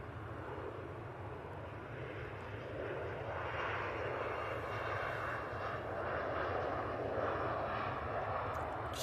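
A Loganair propeller aircraft sits lined up for takeoff at Manchester Airport, its engines giving off a steady, moderately distant drone that swells slightly partway through, with no voices.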